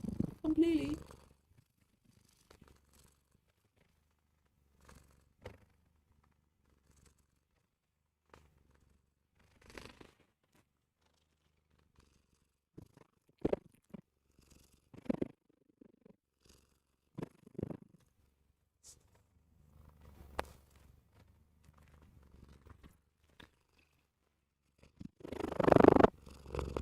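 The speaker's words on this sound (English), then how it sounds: "This is Dolly's live purring show." A cat named Dolly purring softly and close, a faint low rumble through long stretches, broken by occasional rustles, knocks and brief vocal sounds.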